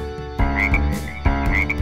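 A frog croak performed inside a playful Brazilian children's song, repeating in two bursts over a steady musical backing.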